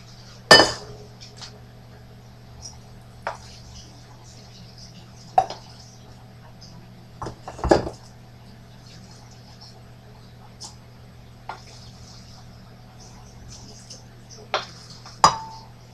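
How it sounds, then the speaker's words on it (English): Brown rice put into a bowl in a quiet kitchen, with scattered sharp clinks and clatters of dishes and utensils separated by pauses over a low steady hum. "So I'm going to take a bowl and just put the brown rice that I have"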